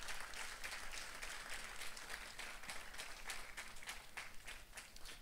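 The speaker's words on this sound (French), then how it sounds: "On peut applaudir." A church congregation applauds together during a French-language service, a soft, fairly distant wash of many hands clapping steadily for several seconds without voices over it.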